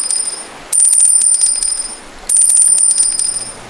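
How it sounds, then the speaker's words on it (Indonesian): A small bell jingles quickly in two bright, ringing bursts, each a rapid shimmering run of high metallic strikes that sounds like a bicycle bell, loud and close with a quieter tail between them, used as a radio drama sound effect. "Suara itu mendekat seperti suara lonceng yang berbunyi dengan cepat."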